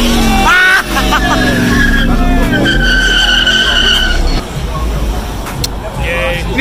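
Muscle car tires skidding and squealing as the driver loses control, a loud, close, sustained screech over engine roar, with people talking over it.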